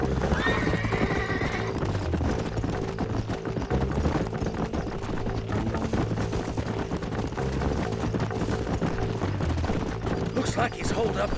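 A horse in the Western video game Red Dead Redemption gives a short whinny near the start, heard over a dense, continuous game soundscape of music and ambient effects, with speech present.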